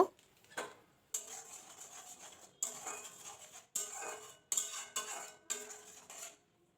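Spice masala for a small crab curry being stirred in a pan, a series of separate scraping and clinking bursts of utensil on metal, close and moderately loud with short pauses between them, no speech.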